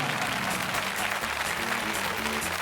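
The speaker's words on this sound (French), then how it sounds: "On l'applaudit très très fort" Studio audience applause on a French television game show, steady sustained clapping from a crowd with a musical background underneath, continuing evenly throughout.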